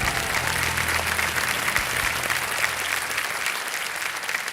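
Studio audience on the quiz show Kaun Banega Crorepati bursts into dense, sustained applause, loud and steady with a faint crowd murmur beneath.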